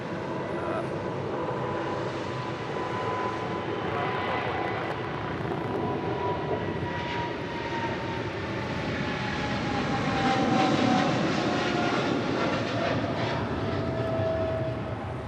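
Boeing 777 freighter taking off on runway 25 left at Los Angeles International Airport, a sustained heavy jet engine roar heard from a distance, building gradually and peaking near the end.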